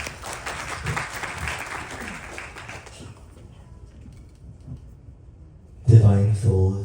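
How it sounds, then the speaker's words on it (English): Audience applause at a Ganesh Chaturthi Utsav gathering, a moderate burst of clapping that fades out after about three seconds, leaving quiet before a voice begins speaking close up. "Please give him a round of applause"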